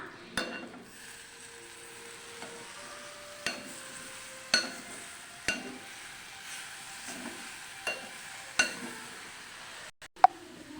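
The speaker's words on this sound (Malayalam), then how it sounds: "ഇനി നമുക്കിതൊന്ന് ഇളക്കാം" A cooked yam flower dish gets stirred in a pan with a soft low sizzle underneath, and a spoon scrapes and taps about every second, with a sharper clink near the end.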